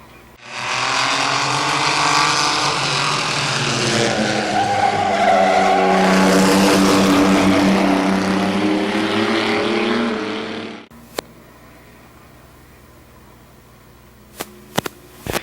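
Race cars roar loudly through a corner at Midvale Speedway, a sustained, close engine wail with tire skidding that swells for about ten seconds, then cuts off abruptly, leaving a quiet background with a few sharp clicks.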